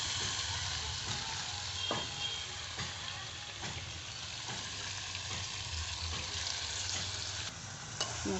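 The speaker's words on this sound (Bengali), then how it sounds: "মশলাটা দিয়ে একটু নেড়ে চেড়ে নেব।" Spice paste being stirred into frying potatoes in a pan, a continuous close sizzle broken by regular scraping stirs, with no one talking.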